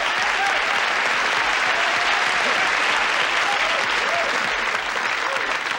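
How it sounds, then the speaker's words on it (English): Studio audience applauding loudly and steadily throughout, a dense unbroken wash of clapping at a 1977 NBC television variety show, with a few faint voices mixed in. "Give a big round of applause."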